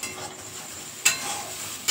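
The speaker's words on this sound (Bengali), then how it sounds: "পেঁয়াজটা ভাজা হোক।" Onions fry with dried red chillies in a pan, giving a soft, continuous sizzle broken by two sharp stirring scrapes, close and without talk.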